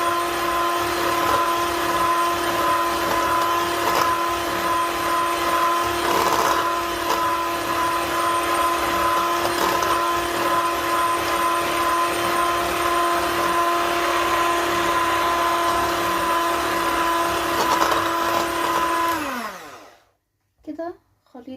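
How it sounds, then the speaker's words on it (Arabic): An electric hand mixer beats vanilla cake batter, a loud steady motor whine with a strong hum running unbroken for nearly twenty seconds, then spinning down and stopping, followed by a couple of faint knocks. "وانتوا بتضربوا يا جماعة خليط الكيك اضربوه في اتجاه واحد"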